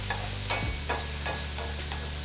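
Mushrooms searing in a hot pan give a steady, moderate sizzle, with a few soft stirring strokes at regular intervals and no voices over it.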